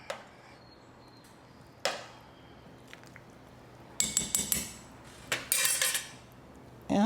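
A spoon stirs a parsley mixture in a metal pot, clinking and scraping against the sides in scattered bursts, with louder clusters of knocks toward the end and no talking.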